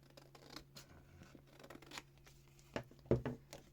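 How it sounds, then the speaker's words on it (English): Scissors snipping through paper to trim off excess around a tab in a garden journal, a few quiet cuts ending in two louder close snips. "So I can snip all of this off."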